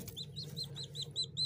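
A newly hatched chick chirps in an incubator, a rapid series of about eight high, thin peeps, close but soft, over a low background hum.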